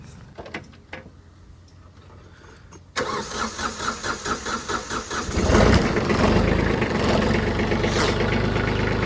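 A farm tractor engine cranks with rhythmic starter pulses, catches and settles into a loud, steady idle close by, following a few quiet clicks and knocks on a cold morning.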